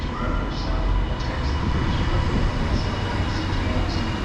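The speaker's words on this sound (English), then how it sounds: "arriving in now is the 11:48 Transpennine Express service to Glasgow Central from Manchester Airport" A TransPennine Express train pulls into a station platform at Bolton, a steady, loud low rumble of engine and wheels filling the few seconds with faint higher squeaks above it.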